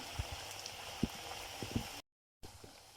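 Malvani-style alu vadi, rolled colocasia-leaf slices, frying in hot oil, with a soft steady bubbling hiss and a few sharper pops, faint and close, cut by a short silent gap.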